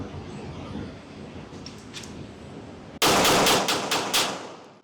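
A rapid string of about six loud gunshots rings out at a USPSA shooting drill, following quiet outdoor ambience.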